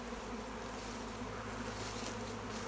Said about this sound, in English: There's so many bees back here.